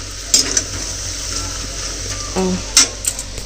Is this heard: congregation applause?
no